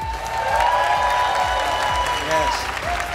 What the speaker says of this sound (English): Let's give Miss Indonesia another round of applause.